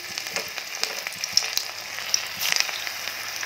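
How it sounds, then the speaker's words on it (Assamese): Semolina and raw banana pakoras fry in hot refined oil with a close, steady crackling sizzle and scattered sharp pops. No one speaks. "এতিয়া পকোৰা ভাজি যাম।"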